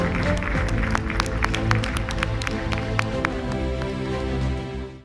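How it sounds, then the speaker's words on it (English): A crowd at an awards ceremony claps steadily for several seconds, dense and lively, before the applause fades out at the end. "Ladies and gentlemen, a warm round of applause."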